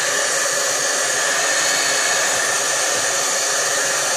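A hair dryer blows steadily on wet watercolor ink splashed onto paper, giving a loud, continuous whooshing roar with no pauses from start to finish.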